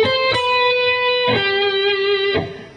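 Distorted electric guitar riff played through effects, three sustained note groups each struck with a sharp attack and ringing out, alone without talk.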